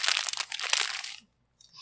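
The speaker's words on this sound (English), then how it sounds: "you're going to listen to me eat some M&M's" Someone chews M&M's candy right up against the microphone, a loud dense run of crisp crunching for just over a second before it stops abruptly into silence and one faint rustle.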